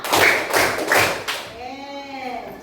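A class claps in unison during a counting clap chant, with several loud, evenly spaced group claps and thumps in a steady rhythm, then a short ringing tone as the claps stop.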